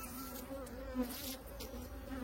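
Honey bees hum around an opened beehive, a steady, close buzzing drone that carries on throughout with small swells as individual bees pass near.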